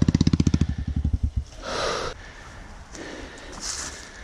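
A Honda CRF 250L dirt bike in the woods chugs with a fast, rhythmic run of engine pulses, then gives way to louder rushing, scuffing bursts nearby.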